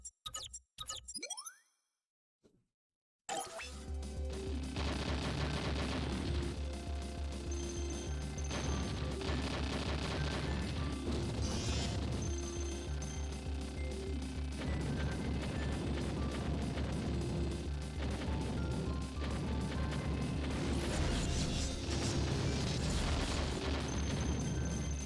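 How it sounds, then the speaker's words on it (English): A bomb detonates in the GigaWing shoot-'em-up after a short spoken lead-in, then loud, dense blasts, crashes and rapid gunfire fill the rest without letup, swelling again near the end. "I accidentally pushed the bomb button."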